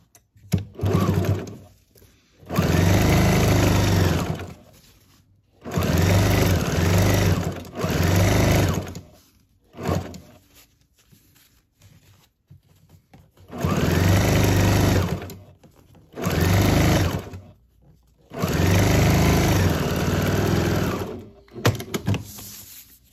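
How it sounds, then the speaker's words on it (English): Bursts of top stitching on fabric for a tennis bag rattle out close and loud on a sewing machine, several runs of a few seconds each separated by short pauses and handling sounds. "And then I go ahead and go in and give this a top stitch to stitch it down."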